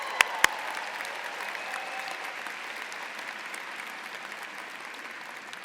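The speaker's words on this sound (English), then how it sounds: "Can I get a cheer for my evening MBA students?" A graduation audience at the Michigan Ross Class of 2018 ceremony applauds and cheers for evening MBA students, a broad steady wash of clapping that fades slowly, opening with two sharp claps nearby.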